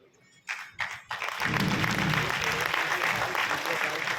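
Audience applause in a business presentation hall, beginning with a few sharp claps then swelling into dense, sustained clapping from a crowd.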